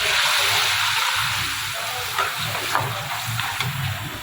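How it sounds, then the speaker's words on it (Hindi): Water poured into a pan of browned ginger paste, frying as mutton paya is cooked, gives a steady broad hissing sizzle that eases slightly and goes on without talk. "तो यहाँ पर हम 1 गिलास इसमें 1 कप पानी का डाल देंगे।"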